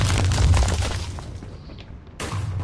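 A TNT cannon fires in a Minecraft battle with a loud, booming blast that rumbles away, then a second explosive burst hits near the end, with no voices heard.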